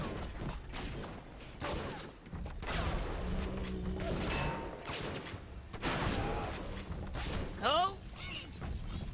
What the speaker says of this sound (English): That rivet gun is awful and terrible all at the same time.